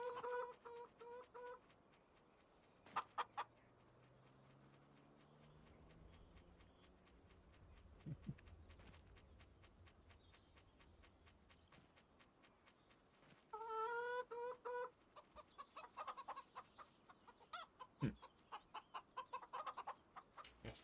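Chickens clucking in the Farming Simulator 25 video game, a run of repeated clucks and cackles, with quieter stretches between bursts and some footsteps, no talking.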